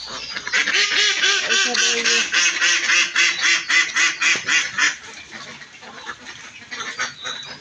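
Several ducks on a small farm quack in loud, rapid overlapping bursts, close by, with a steady rhythm that loosens toward the end; no talking.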